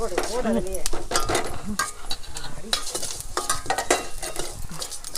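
Poppy seeds, fennel and cumin being stirred in a hot pan, with a steady dry sizzle and quick scraping, clinking utensil strokes against the pan, close and fairly loud.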